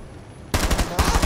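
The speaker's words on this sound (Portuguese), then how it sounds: "Ah, deu um tiro de Glass aqui na janela." Sudden burst of rapid gunfire in Rainbow Six Siege aimed at a window, loud, close automatic shots starting after a quiet moment and continuing in quick repeated bursts.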